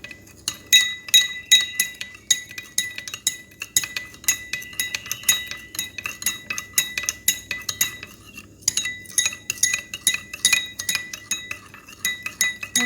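A spoon stirs a homemade vinegar mixture with salt in a glass container, making quick, repeated clinking and scraping strokes against the glass, close and crisp, in bursts with short pauses, without any voices.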